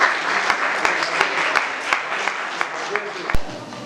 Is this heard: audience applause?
yes